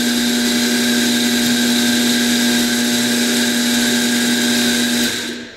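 A Mahlkönig E65S GbW coffee grinder grinds a double dose of coffee with a loud, steady motor whine and gritty grinding underneath, running close and unbroken before spinning down at the end.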